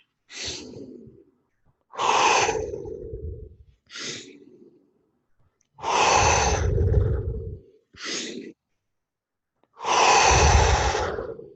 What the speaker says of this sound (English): So now breath work.